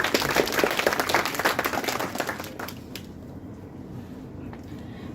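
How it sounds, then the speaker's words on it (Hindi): An audience claps loudly and densely for a couple of seconds at a spiritual gathering, then the applause thins out and fades into quiet. "इसके लिए बहुत बहुत ज़ोरदार तालियां"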